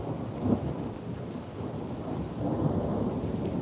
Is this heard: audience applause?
no